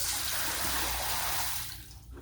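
Tap water running and splashing while an aquarium fish filter packed with cotton and carbon rocks is rinsed clean, a continuous close rush that thins out near the end.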